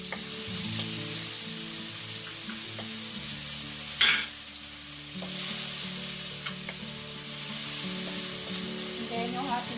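Tomato and onion fry in a pan for sweet Filipino-style spaghetti, a steady close sizzle with a sharp scrape of stirring partway through and soft clinks now and then, no talking.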